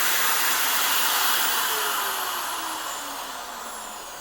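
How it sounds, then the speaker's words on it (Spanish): An electric drill runs steadily on power from an inverter connected to a car battery, giving a loud, continuous high-pitched whir whose pitch glides slowly downward as the motor eases off near the end. "observen cómo funciona correctamente el taladro"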